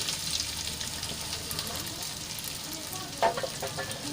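Diced boiled potatoes sautéing in hot oil while being stirred, a steady close sizzle with light scraping and one brief clunk of the spoon against the pan near the end.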